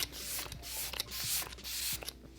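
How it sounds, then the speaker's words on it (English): A series of short, hissing spritzes from a Morphe Luminous setting spray bottle, close by, repeated in quick bursts with brief pauses between them. "I'm going to take my Morphe Luminous setting spray first."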